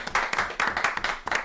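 Applause from a stadium crowd of over 21,000 at a boxing match, heard faintly as a dense patter of many hands clapping, with no talk.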